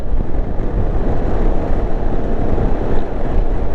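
Steady, loud wind roars and buffets across the microphone while riding a motorcycle, without pause, a dense continuous rush with no voices.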